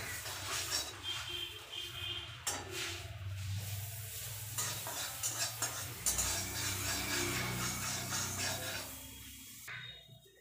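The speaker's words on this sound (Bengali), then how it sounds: "কড়াই গরম হয়ে গেছে, আমি অল্প করে বাটার দেব।" Butter sizzles in a hot kadai for oats paratha, a soft, steady frying hiss broken by stirring and scraping, fairly quiet and close.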